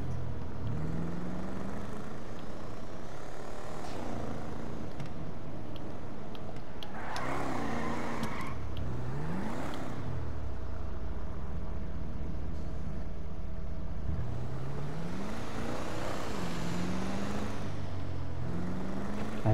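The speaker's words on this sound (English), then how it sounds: "I really love the engine sound." Albany Virgo car engine in GTA V Online, revving and rising in pitch several times over a steady drone, loud and close, with no talk.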